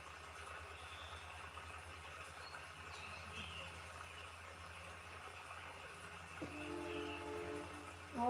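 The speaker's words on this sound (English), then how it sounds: "Oh, another train." A train rumbles steadily in the distance, then a horn sounds near the end as the noise swells closer.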